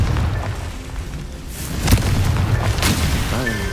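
A Confringo blasting spell explodes in Hogwarts Legacy, with a low rumbling boom, a sharp burst near the middle, and a second crack shortly after, loud and close over continuous game ambience.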